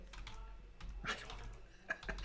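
Quiet clicking of keys on a computer keyboard in a live-stream setup, a few soft irregular taps spread across a couple of seconds against faint room noise.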